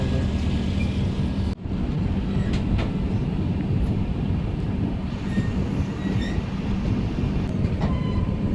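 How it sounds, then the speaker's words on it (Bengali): The Sairang Express pulls out of Bhairabi station with a continuous loud rumble of rolling wagons and wheels, a sharp clunk near the start and faint squeals riding over the steady roar. "ট্রেন ছেড়ে দিয়েছে এখন ভৈরবী স্টেশন থেকে"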